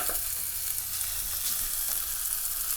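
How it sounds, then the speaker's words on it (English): Ground turkey browning in a pan with onions, olive oil and lemon pepper seasoning, giving a steady, close hiss of frying that runs evenly throughout with no talk. "I got my turkey in there, and I'm going to brown it"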